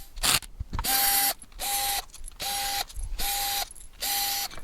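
A ratchet wrench clicks rapidly as it backs bolts out of the bearing block on a BMW R1250 boxer engine, five or six even bursts with short pauses, close and loud.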